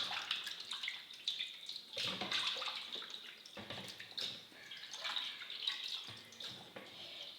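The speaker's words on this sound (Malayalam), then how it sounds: "ഒന്ന് രണ്ട് വട്ടം കഴുകിയിട്ട് മഞ്ഞൾപ്പൊടിയൊക്കെ ഇട്ട് കഴുകാം." Chicken pieces being washed in water for a home-style Kerala chicken curry, with continuous splashing and trickling under a running tap, close and fairly loud, with a few louder sloshes at intervals and no talk.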